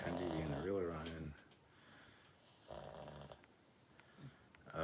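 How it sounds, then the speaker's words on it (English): Snoring from a sleeping man, heard as a few loud, harmonic, rasping rumbles at the start and again mid-clip, with quieter breathy gaps between and faint background sounds. "He's snoring."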